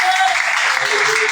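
A church congregation applauds and cheers in a short, loud, continuous burst of clapping and voices.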